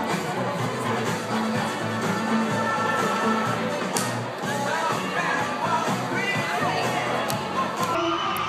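A large studio audience at a Dancing with the Stars live broadcast cheers and shouts steadily, a dense continuous crowd roar with occasional whoops rising above it.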